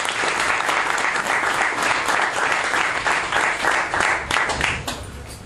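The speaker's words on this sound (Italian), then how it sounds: "Un applauso." Sustained audience applause following a poetry reading, dense steady clapping from a sizeable crowd that holds for several seconds before easing slightly at the end.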